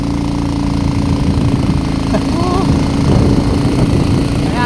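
Small motorcycle engine running steadily close by on a rural road, a continuous buzzing drone with voices talking over it.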